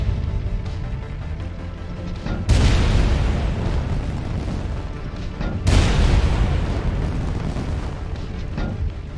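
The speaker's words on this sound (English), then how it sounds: "first shot takes out the engine, second shot gives a fuel explosion" Two heavy booms from tank fuel explosions in the top-down tactical tank game Tankocracy, each a sudden loud blast followed by a long rumbling decay, the second arriving about three seconds after the first.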